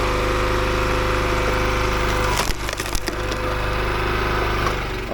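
A Timberwolf professional-grade log splitter splits firewood at a service camp, its engine droning steadily while wood cracks and splinters sharply in the middle of the run.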